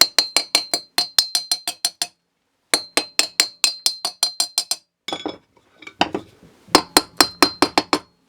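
A chipping hammer knocks slag off a fresh arc weld made with an inverter 4000 stick welder, rapid bursts of sharp metallic ticks in quick regular clusters with brief pauses, close and crisp, followed by rougher scraping.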